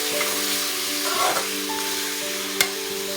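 Fried tinda stirred into masala in a pan, a steady loud sizzle with soft scraping stir sounds and one sharp clink near the end.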